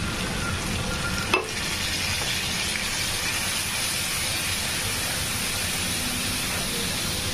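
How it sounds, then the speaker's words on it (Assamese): Spice masala for a rui fish curry fries in a pan, a steady close sizzle and hiss throughout with one brief scrape of stirring near the start. "মছলাটো মই অকণ ভাজি ল'ম।"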